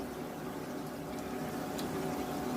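Potato balls deep frying in plenty of oil, giving a steady, dense sizzle and bubbling that runs without a break at close range.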